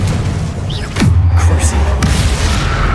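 A Confringo fire-blast spell in the Hogwarts Legacy video game lands as a loud booming impact about a second in, over continuous game noise, followed by a low sustained rumble and a second sharp hit near the end.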